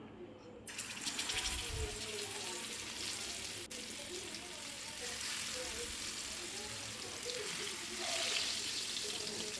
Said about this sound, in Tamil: இதில் தான் இன்றைக்கி மீன் பொறிக்க போகிறேன்